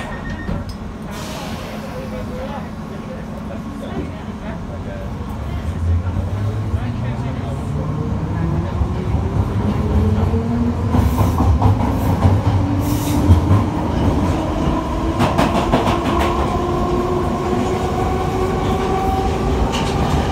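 London Underground Piccadilly line train running between Finsbury Park and Holborn, a loud close rumble with rising and falling motor whine, rhythmic wheel clatter and a squealing tone, plus a brief announcement voice.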